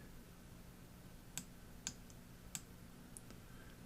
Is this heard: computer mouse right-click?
yes